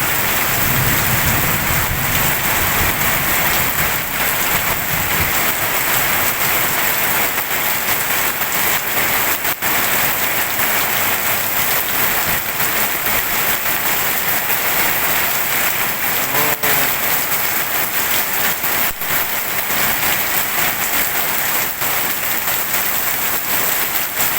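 Heavy rain pours down steadily and loudly, a dense unbroken roar of drops on surfaces with no voices present.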